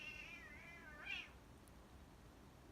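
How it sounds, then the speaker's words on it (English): Two kittens squabbling, giving a couple of thin, wavering meows that rise and bend, close and fairly quiet, followed by soft shuffling with no talk. "I have 2 kittens. They are fighting."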